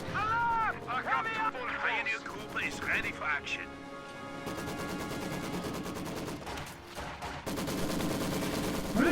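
Rapid sniper and machine-gun fire crackles through a Global Conflict match between Jager forces, dense bursts running almost continuously under an excited commentator's voice.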